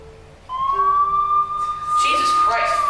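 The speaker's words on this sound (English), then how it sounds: "Police sirens." A police siren wails with a rising tone, joined by overlapping siren sweeps, fairly loud and close.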